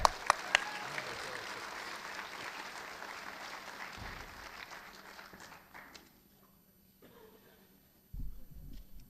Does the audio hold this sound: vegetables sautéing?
no